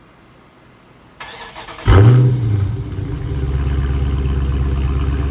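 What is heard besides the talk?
2017 RT Scat Pack 392 engine with stock exhaust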